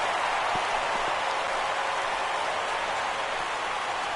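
Broad, steady roar of a large baseball stadium crowd during a no-hitter, a continuous wash of cheering and noise with no distinct voices standing out.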